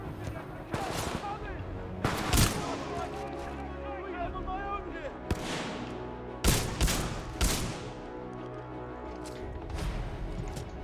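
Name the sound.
Titan gunfire giving supporting fire in video game Titanfall 2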